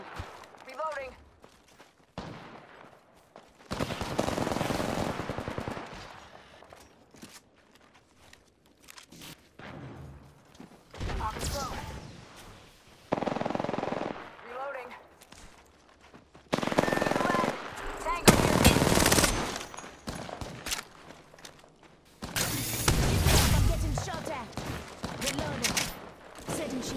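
Rapid automatic gunfire bursts in the Apex Legends battle royale game, repeated volleys of shots in several loud clusters, with character voice lines and talk mixed in between.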